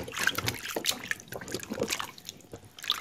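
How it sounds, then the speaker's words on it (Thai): Salted Tinospora (boraphet) stems being rinsed by hand in a basin of water, giving close, irregular splashes and trickles with a steady wet swishing and no talking. "ล้างน้ำเกลือออกนะฮะไม่ให้เค็มนะครับ"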